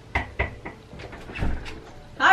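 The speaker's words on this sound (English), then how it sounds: "Knock on the door." Knocking on the door of an empty house: two sharp knocks, a softer third, then a few lighter taps and a thud, close and dry, followed by a short burst of voice.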